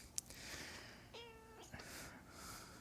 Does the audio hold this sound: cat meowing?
yes